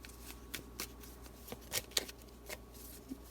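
Tarot cards riffled and shuffled in a quiet room, a run of soft papery flicks and several sharper snaps of cards falling together, fairly close and with no talking.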